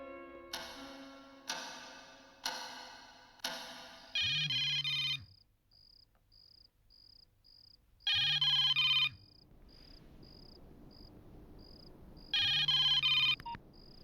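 A telephone rings in three distinct bursts of trilling bell-like tone, preceded by steady loud ticking and followed by regular short beeping pulses between rings, close and clear with no talking.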